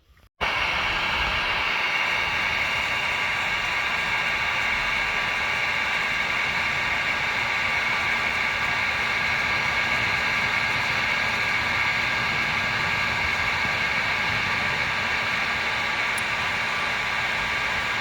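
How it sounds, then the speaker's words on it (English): A heat gun blows on a wax actuator in a T&P valve, giving a loud, constant, broadband fan-and-air roar. It starts abruptly and holds steady for the rest of the clip with no talk. "Got the heat gun ready to go."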